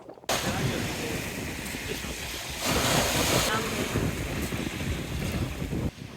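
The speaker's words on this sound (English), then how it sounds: "We reached the hidden beach, the most beautiful blue beach, which was quite calm to just relax." Waves wash steadily against a calm beach, close by, in a continuous broad rush mixed with wind buffeting the microphone, swelling slightly midway through.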